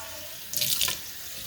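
Tap water splashes briefly into a kitchen sink while basmati rice is washed, giving a short close burst of running water of about half a second before it stops.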